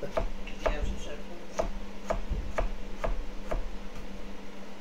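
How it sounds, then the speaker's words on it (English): Knife chopping through whole jalapeños on a cutting board during a home cooking livestream, steady evenly spaced cuts about twice a second, fairly close, over a low background hum. "I'm not going to clean these jalapenos. I'm just going to slice them down."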